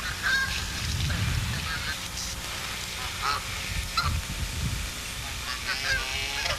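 Young goslings honking in a group, repeated nasal honks and quacky calls, fairly close and overlapping with a low rumble beneath, continuing without pause through the stretch.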